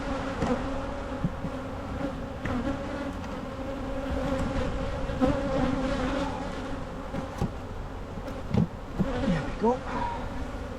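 Honeybees buzz continuously around a hive being split by the walk-away method, a dense close hum with individual bees zipping past the microphone.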